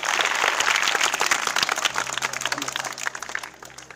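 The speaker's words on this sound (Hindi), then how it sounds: "इनके लिए ताली बजाइए आप लोग।" Students and teachers clap for a debate speaker at a Children's Day celebration at an intermediate college, a lively burst of applause that thins out and fades over a few seconds.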